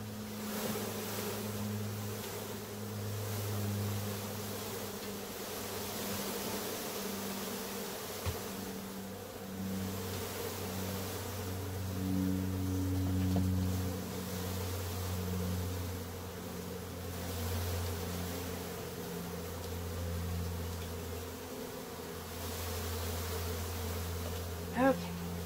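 Dense honey bee swarm droning steadily as the bees are shaken into a glass observation hive, a close, continuous buzz with wavering pitch and a few soft knocks, lasting throughout without speech.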